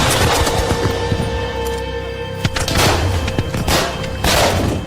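Musket volley fired by American troops in a Battle of Bunker Hill battle sound effect: loud, ragged bursts of overlapping gunshots crackling in waves, with a continuous tone beneath.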